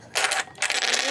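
Coins jingle and clatter briefly as they are handled and dropped, two quick metallic bursts heard up close with no talk.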